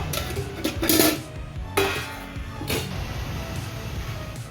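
A metal plate is set upside down inside an idli steamer, giving a few sharp, close metallic clanks and scrapes spaced over a few seconds, with quiet between them.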